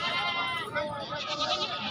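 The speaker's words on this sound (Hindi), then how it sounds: "बकरी भी माशाल्लाह चंगी है जी" Goat bleating at a busy goat market, a wavering cry rising over loud crowd chatter and nearby voices throughout.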